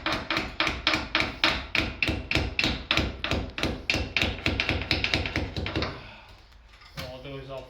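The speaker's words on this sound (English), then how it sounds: "Hammer." Hammer blows strike concrete blocks while a door opening is enlarged for a steel beam, a fast, steady run of loud, close, hard thuds that stops near the end, followed by a brief voice.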